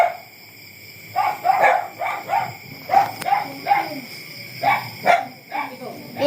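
A pet dog barking near a home kitchen while meringue is made, a series of repeated yips and barks in an irregular rhythm, some close and loud, over faint background hum.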